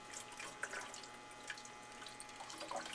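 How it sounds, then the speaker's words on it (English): Metal Rescue rust remover is poured into a motorcycle gas tank, giving a faint, quiet trickle broken by a few soft drips. "grab a bottle of Metal Rescue and you pour it in"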